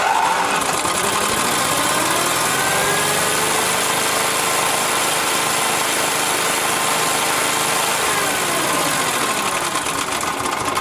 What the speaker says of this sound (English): this lawnmower runs, but the customer's complaining that it has no power